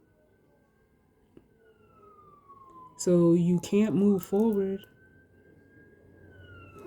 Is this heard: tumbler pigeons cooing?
no